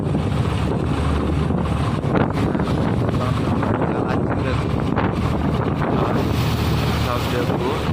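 A boat under way on rough, wave-tossed water, with a steady loud rush of wind and water churning continuously throughout and a voice talking over it.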